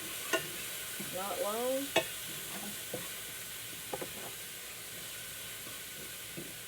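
Minced garlic sizzles and fries in a pan on the stove, a steady hiss running throughout, with a few stirring scrapes and clicks and a brief spoken remark.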